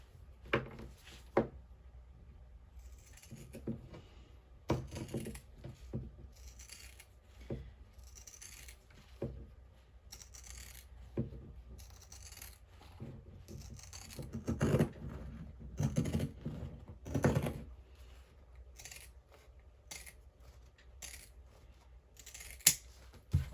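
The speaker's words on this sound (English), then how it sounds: "take our pinking shears and just go all the way around" Pinking shears snip through fabric around the edge of a sewn bag, a series of quiet irregular crunching cuts with short pauses, close and faint.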